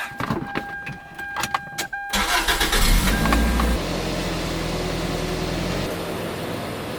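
A dad's car is started nearby: clicks and a whirring starter crank lead into the engine catching with a loud rev, then it settles into a steady, rumbling idle.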